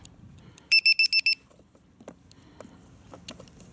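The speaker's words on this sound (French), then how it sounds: "On va juste mettre le buzzer." A drone's safety buzzer sounds a rapid burst of five sharp electronic beeps, loud and close, followed by faint clicks and handling noises.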